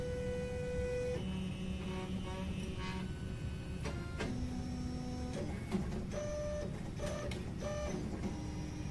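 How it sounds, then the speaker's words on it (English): An AIO Zeus 3D printer's extruder head auto-probing the bed, giving steady stepper-motor whines and tones that change pitch with short clicks between moves, close and continuous with a low hum beneath. "As you can see right now in the machine, the extruder head will measure the height of the turntable and compensate for any"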